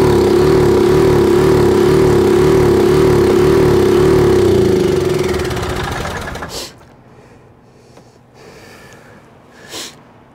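A Bennche 500 UTV engine with a knocking, smoking motor runs hard at full throttle with a rough, rhythmic knock and clatter, then cuts off after about six seconds, leaving near silence with a few faint sniffs or rustles.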